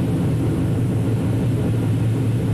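A light propeller airplane's engine is being throttled back on the approach to landing, heard from inside as a loud, steady, droning rumble with no talking.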